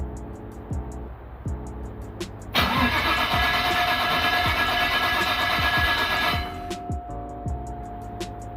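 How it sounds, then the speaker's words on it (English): A car with an RB25DET engine cranks and fires up at close range, the start breaking into a loud, steady idle that holds for several seconds before easing to a lower, quieter run, with ticking and clicks around it. "First things first is to get the car started."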